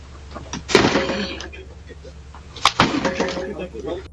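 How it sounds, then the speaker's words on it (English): Two hard kicks slam into a locked front door at night, each a sharp, loud thud followed by a brief rattle, spaced about two seconds apart against a quiet street background. "he lifts his leg and kicks the door, hard. Thud. He kicks again."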